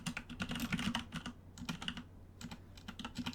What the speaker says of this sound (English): Sorry, I'm typing for the Americans